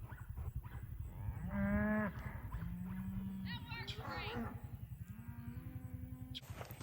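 Cattle lowing near a farm pen as the herd is being moved, with several drawn-out moos rising over steady low rumbling and handling noise while people talk nearby.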